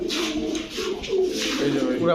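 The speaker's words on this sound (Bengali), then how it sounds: "পাকিস্তানি কবুতরের আজকে ছড়াছড়ি" Pakistani Kamargar pigeons coo in soft, low, rolling calls close by, while someone talks over them.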